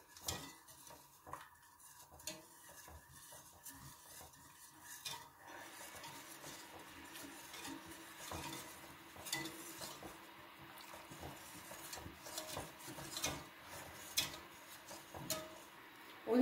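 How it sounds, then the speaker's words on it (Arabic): A spoon scrapes and clinks around a pot while chocolate melts for a biscuit chocolate cake, with steady light stirring and occasional metallic taps, close and moderately quiet, no talk. "دلوقتي بقى ندوب كمان الشوكولاتة."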